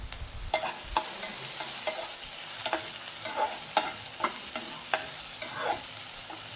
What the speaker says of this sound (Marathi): छान अशी मॅगी शिजते